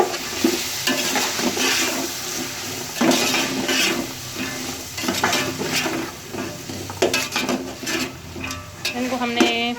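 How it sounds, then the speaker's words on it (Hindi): Carrots, potatoes, peas and green capsicum with green chillies sizzle steadily in a pan for fried rice while a utensil scrapes and stirs in repeated clinks, close and continuous. "5 मिनट तक अच्छी तरह से भूनना है, फ्राई करना है।"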